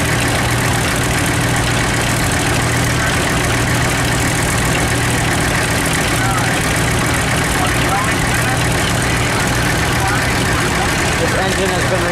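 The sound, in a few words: engine idling, running on gasoline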